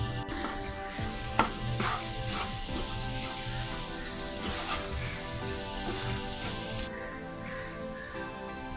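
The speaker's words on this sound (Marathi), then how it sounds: "सोया चंक्स व्यवस्थित परतून घ्यायचे आहेत" Soya chunks sauté in masala and oil in a pan with a steady crackling sizzle and scattered scraping stirs, close and fairly quiet over a low background hum.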